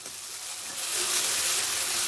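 Onions sizzling softly in a pan for egg rice, a faint hissing fry that swells slightly midway, with no talking.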